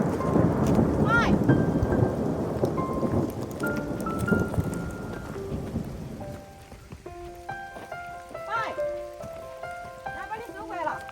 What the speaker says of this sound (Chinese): 下了好大雨